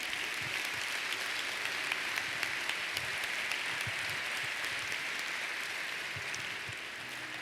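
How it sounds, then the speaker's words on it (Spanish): A church congregation applauds steadily throughout, a dense wash of clapping from many hands that eases slightly toward the end. "¿Por qué no le dan un fuerte aplauso?"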